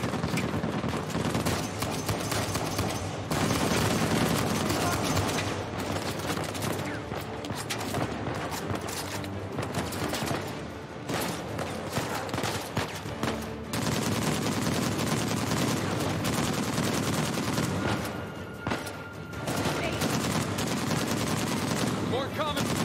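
Gunfire in the video game Uncharted 4, in the New Devon chapter, as dense continuous firefight noise with overlapping shots and loud game audio throughout, someone talking over it.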